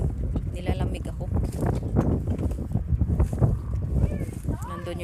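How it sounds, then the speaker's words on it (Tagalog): Strong outdoor wind buffets a spring walk, giving a steady rough rumble and close microphone gusts with a person talking over it. "ang lakas ng hangin dito"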